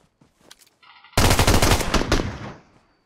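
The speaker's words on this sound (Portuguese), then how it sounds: "O cara tá atirando lá de SKS?" Rapid gunfire in the PUBG Mobile battle royale game, a loud close burst of automatic shots lasting about a second and a half after some faint scattered clicks, then trailing off.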